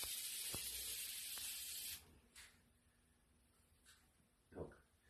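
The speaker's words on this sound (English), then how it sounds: "I'm going to spray some spray paint at white poster board from about 10 feet away" A sustained hiss of a spray paint can aimed at white poster board about 10 feet away, roughly two seconds, bright and close, followed by quieter short bursts and a faint thump.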